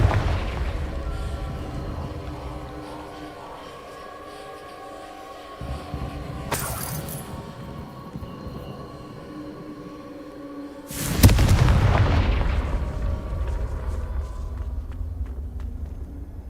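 Hogwarts Legacy Confringo explosion spells go off in two sharp bursts, the second louder with a rumbling tail, over continuous game ambience and footsteps.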